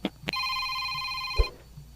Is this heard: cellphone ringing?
yes